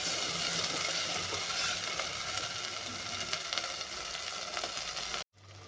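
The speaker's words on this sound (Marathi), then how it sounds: "कांदाही थोडस थोडंसं तेल सुटेपर्यंत आपण मसाला चांगला आपण भाजून घेणार आहे वाटण" Ground masala paste of coconut, sesame and onion sizzles steadily in hot oil while being roasted in a pan, a continuous close frying hiss that cuts off abruptly near the end.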